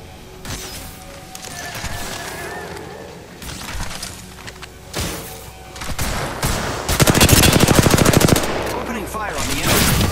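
Rapid automatic gunfire in the Apex Legends battle royale shooter, loud and dense bursts with crackling impacts, heaviest in the second half, over game ambience and occasional voice lines.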